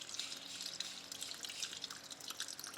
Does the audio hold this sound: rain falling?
no